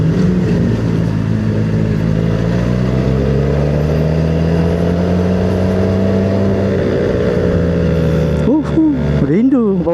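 A QJ SRK450RR motorcycle engine revs through traffic in the rain: a loud, steady drone that climbs in pitch and then settles, with a few quick rev sweeps at the end.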